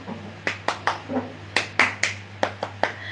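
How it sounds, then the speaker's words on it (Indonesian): About a dozen separate, uneven hand claps from a small audience at a Balinese short-story reading, sharp and fairly close over a steady low hum. "penonton, tepuk tangan dong"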